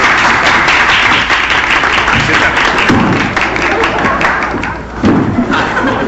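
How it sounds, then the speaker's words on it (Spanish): Loud audience applause at a radio comedy show, dense clapping from a crowd filling the whole stretch with a brief dip near the end. "Aplauso, por favor, aplauso."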